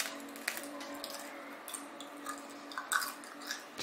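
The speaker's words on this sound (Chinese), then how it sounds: "我们一般都是抱起来直接啃" Someone chews soft, chewy sweet-and-salty homemade pork jerky, biting straight off a whole sheet, with close, moist chewing and small squishy bites in a quiet room.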